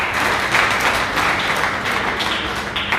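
An audience at a nursing congress breaks into sustained applause, a dense wash of many hands clapping fairly close and loud for the full few seconds.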